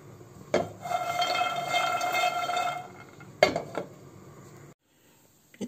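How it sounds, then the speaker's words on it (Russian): Cashews, almonds and hazelnuts are stirred in a dry frying pan over low heat, with a utensil scraping and rattling the nuts against the metal in two bursts and a steady ringing tone, then near silence. "Обжарю их на сухой сковородке, регулярно помешивая, чтобы не подгорели,"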